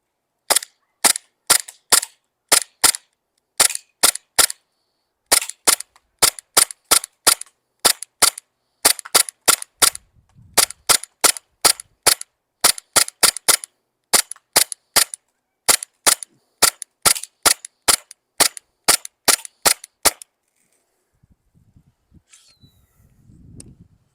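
A Glock 18C airsoft pistol firing BBs on full auto, sharp snappy bursts of rapid shots in repeated strings for about twenty seconds, loud and close, followed by quiet handling.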